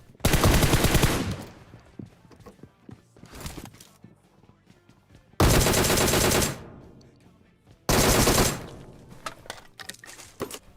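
M4 rifle fire in a video game: several loud, sharp automatic bursts, each lasting about a second, separated by quieter stretches with faint scattered shots and clatter.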